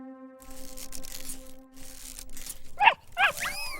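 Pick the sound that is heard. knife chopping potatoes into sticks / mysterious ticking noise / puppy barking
puppy barking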